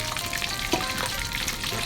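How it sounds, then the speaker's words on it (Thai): Fried crab juice poured into a clean cooking pot gives a steady, dense splashing hiss, close and continuous, with no talking. "เทลงไปในหม้อเลย"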